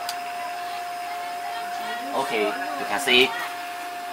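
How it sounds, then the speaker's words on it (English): A turbo molecular pump runs in a DIY vacuum system for a homemade scanning electron microscope, giving off a steady, even whine throughout while a person speaks briefly over it. "it's dropping down because the turbo molecular pump is running."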